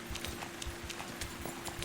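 Horse hooves in the video game Kingdom Come: Deliverance clop in a quick, steady rhythm over a constant low hum, close and fairly loud.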